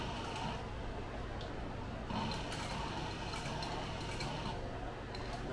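A sewing machine stitches up a two-tone fabric tote bag, its steady mechanical whir running continuously at close range with a few brief clicks, while a voice talks faintly alongside.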